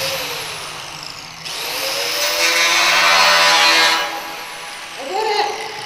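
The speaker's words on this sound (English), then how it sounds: "the first time I grabbed an angle grinder, I was like, won't these sparks burn my face off?" An angle grinder cuts into a steel shipping container, its motor whine rising into a loud, harsh grinding roar for a few seconds before spinning down, with a brief second burst near the end.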